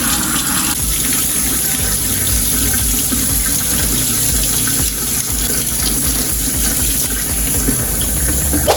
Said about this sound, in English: Let's wash our parsley very well.